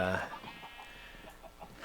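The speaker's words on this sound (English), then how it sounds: "Oh, the chicken just got burned." A chicken in the Minecraft video game clucks as it burns. A few short, faint clucks follow a brief burst of voice.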